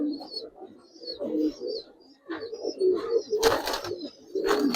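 Giribaz pigeons cooing close up in repeated throaty, rolling phrases, with a few sharper bursts of flapping or rustling mixed in.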